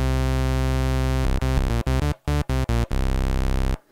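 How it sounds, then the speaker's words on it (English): A synth oscillator holds a buzzy, harmonically rich tone, then a sub-oscillator one octave below is brought in, thickening the low end as the sound stutters through a series of choppy on-off bursts before settling back into a sustained drone. "if you listen as I bring in the sub-oscillator,"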